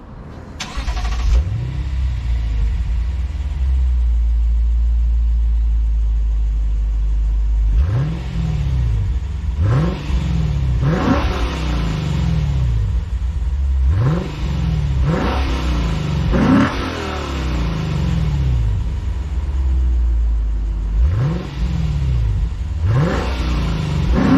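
A 2024 Lexus IS500 V8 sports sedan idles with a low rumble, then revs hard in a series of sharp, repeated bursts from a loud, nearby quad exhaust, no talking.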